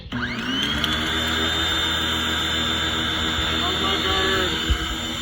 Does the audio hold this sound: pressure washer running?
yes